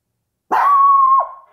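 A dog answers a knock at the door with a single loud, drawn-out bark that stretches into a short howl, close and alone with no talk.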